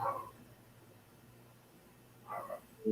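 A dog named Chop whining indoors, short faint whimpering cries at the start and again near the end, separated by a quiet stretch of low room hum.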